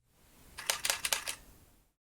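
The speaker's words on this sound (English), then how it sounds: "Press and hold down the shutter button until all the photos are taken." A quick burst of about five Canon EOS RP camera shutter clicks in rapid succession during exposure bracketing, crisp and close, with nothing else around.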